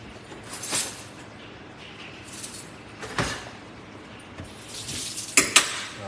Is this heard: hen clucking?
no